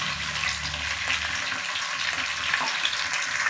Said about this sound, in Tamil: ஆயில் நல்லா காஞ்சிடுச்சு. கடுகு போட்டுக்கலாம்.